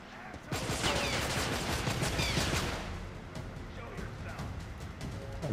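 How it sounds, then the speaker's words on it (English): Multiple enemies in the prison game Escape from Butcher Bay fire on the player in sustained rattling bursts of gunfire, fairly close and continuous, with someone talking over it. "I'm getting like shot at by multiple people."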